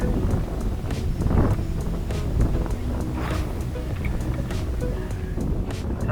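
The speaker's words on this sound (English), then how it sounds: "the wind's going pretty good" Strong wind buffets the microphone on tidal water during bass fishing from a boat, a loud, steady roar with gusting swells and faint water sounds underneath.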